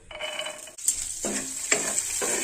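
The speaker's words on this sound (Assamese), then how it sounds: "তাৰপৰা মই বাদামকেইটা ইয়াতে ভাজি ল'ম।" Peanuts fry in mustard oil in a pan, a close sizzle with a few quick scraping stirs over about two seconds.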